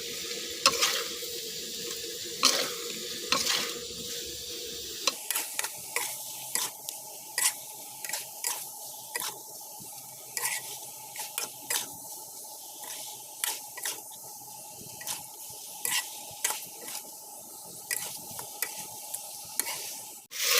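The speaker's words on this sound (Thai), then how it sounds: "ทำการผัดให้เข้ากันค่ะ ผัดเบาๆนะคะ" Spicy catfish pieces with chilies and torn kaffir lime leaves are stir-fried gently in a pan, a soft sizzle under repeated spatula scrapes and taps in an irregular rhythm.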